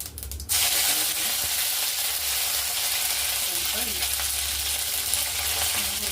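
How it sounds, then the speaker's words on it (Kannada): Steady, loud sizzling and crackling of mustard seeds tempering in hot oil, continuous throughout after a brief opening noise, with no talking. "ಎಣ್ಣೆ ಕಾದಿದೆ. ಒಗ್ಗರಣೆಗೆ ಸಾಸಿವೆ,"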